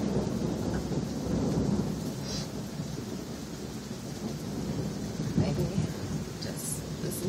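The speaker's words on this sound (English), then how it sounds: "Storm" Steady rain pours down while deep thunder rumbles and rolls through the storm, continuous and fairly loud with no voices.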